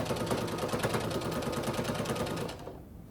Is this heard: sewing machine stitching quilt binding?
yes